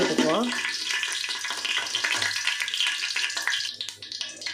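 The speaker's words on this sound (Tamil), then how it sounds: "எண்ணெய் நல்லா காஞ்சிருச்சு இதை போட்டுருவோம் கிண்டி" Whole spices and ingredients hit hot oil in a pan for chicken biryani, giving a loud, steady sizzling crackle with stirring scrapes throughout, while a person talks over it.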